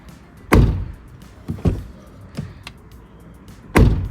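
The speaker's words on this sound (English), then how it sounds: "let's hear the door closing sounds." Volvo EX30 car doors shut several times with loud, solid thuds at irregular intervals, one heavy close early and another near the end, with lighter clunks between.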